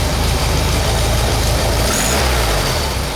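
A Volkswagen 1600 engine idles steadily and loudly up close, a dense continuous rumble with no pauses and no talking.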